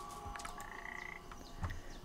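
Frog croaking in the video game Papo & Yo: a few throaty croaks over a steady ambient game background, with faint chirpy tones layered in.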